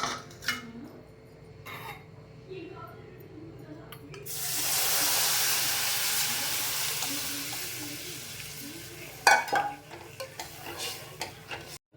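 Tamarind mixture for tamarind rice being stirred and bubbling in a pan, with a few soft spoon knocks, then a loud burst of hissing sizzle, then clattering stirs toward the end.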